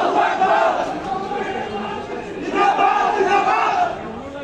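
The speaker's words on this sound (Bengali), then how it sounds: "স্লোগান দিচ্ছেন" Jamaat-e-Islami party activists chant slogans in unison outside their central office, a loud, close crowd of voices rising and falling in rhythmic waves of shouting.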